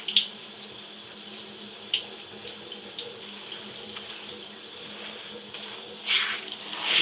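Tap water runs steadily into a sink during a hair washing session, a constant close rush with a few brief louder splashes as hands move under the stream.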